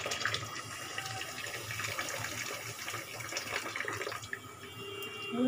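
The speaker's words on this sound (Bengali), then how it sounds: "আর একটু জল দেব।" Water runs steadily into a cooking pot of rice and dal on the stove, a continuous close splashing pour that fills the whole stretch with no talk.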